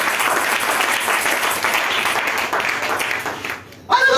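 A church congregation claps and applauds together for a few seconds, loud and dense, then dies away and a voice comes in.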